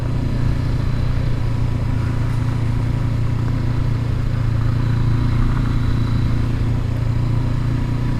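A stock 2019 Honda CB500X ridden off-road over potholes and mud holes on Oregon trails, its engine a loud, steady drone with rattling clatter from the bumpy ground throughout.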